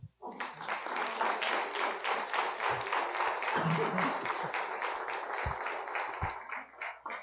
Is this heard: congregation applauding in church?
yes